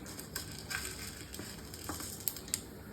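Mustard seeds go into about two spoonfuls of hot oil for a soya chunks curry, giving a quiet, continuous sizzle dotted with small popping crackles.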